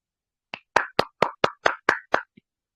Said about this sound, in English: So I really need to clap.